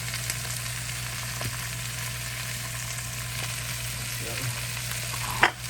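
Potatoes dropped into a hot pan of oil fry with a steady, loud sizzling hiss that runs throughout, with a few faint clinks and a sharp knock near the end.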